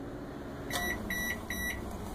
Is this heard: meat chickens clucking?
no